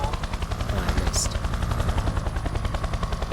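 A spinning plane in a VR video game drones with a rapid, pulsing rotor-like chop, loud and continuous, with a brief sharp high chirp partway through.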